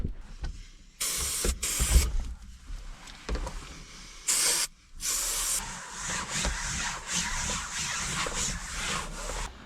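Aerosol can spraying inside a car during repair work on a written-off Polo, several sharp hissing bursts of differing length separated by quieter rubbing and handling noises, with one long spray running on near the end.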